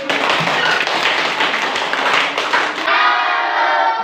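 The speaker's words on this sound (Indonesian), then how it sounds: "Tepuk tangan dulu." A classroom group claps together during a student teaching session, a dense burst of hand clapping that fills nearly three seconds and then breaks off abruptly, leaving a brighter lingering noise behind it.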